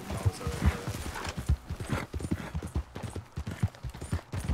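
Steady hoof clip-clop from a horse ridden at a trot in the Western video game Red Dead Redemption 2, a continuous close rhythm of dull thuds with no talking over it.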